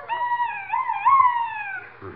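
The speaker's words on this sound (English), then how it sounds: "That noise was a duck call" A duck call carved from turkey bone is blown in one long wavering note lasting about two seconds, a reedy, quacking wail that rises and falls, loud and close, with no talk over it.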